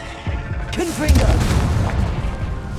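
A Confringo fire spell explodes in Hogwarts Legacy: a loud, booming blast with a dense rumble that rolls on for a couple of seconds, with a voice briefly audible in the mix.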